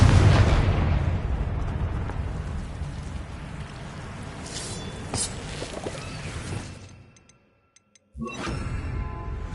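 A Confringo blasting spell bursts in Hogwarts Legacy with a loud, broad explosive boom that rumbles on for several seconds with crackling debris, fades to near silence, then a fresh rush of sound returns.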